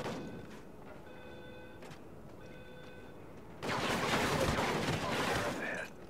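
Call of Duty: Ghosts campaign combat: a few sharp shots and thuds over a quieter stretch, then a dense burst of sustained automatic gunfire for about two seconds before it cuts off.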